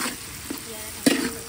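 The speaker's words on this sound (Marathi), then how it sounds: "कांदा फ्राय होऊ देऊया आपण." Chopped onion frying in a pan over a wood-fired stove while being stirred, making a soft steady sizzle broken by a couple of short scraping stir strokes, close by and alone.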